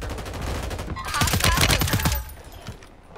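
Rapid automatic gunfire in the video game Warzone 3, a loud close burst of evenly spaced shots peaking mid-clip before trailing off, with no one speaking.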